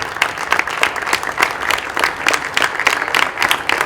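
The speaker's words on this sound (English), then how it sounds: "Don't stop, guys. Continue clapping." An audience at an awards ceremony claps steadily, with distinct close hand claps layered in an uneven, rapid patter throughout the short burst.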